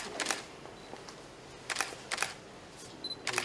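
Camera shutters click during a commemorative group photo at a foundation's 40th anniversary ceremony, several scattered bursts of crisp clicks, some in quick pairs, over quiet room tone.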